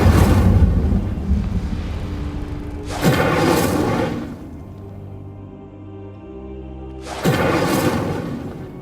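Fire spell Incendio cast in Hogwarts Legacy, rendered as two loud whooshing bursts with a heavy booming low end, a few seconds apart, separated by a lower rumbling tail.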